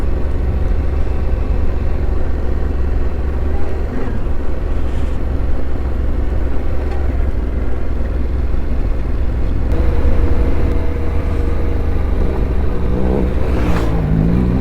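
A Yamaha Ténéré 700 motorcycle climbs a winding off-road mountain track, its engine droning steadily and gaining throttle, loud and continuous close to the rider, with wind and rumble throughout.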